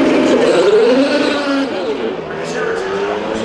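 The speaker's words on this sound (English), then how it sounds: "That's so sick when they're coming straight out of the pits or like burning the tires." Indy 500 race cars roar out of the pits, engines loud and close in a steady harsh blare with a pitch sweep as they pass, while people talk over the din.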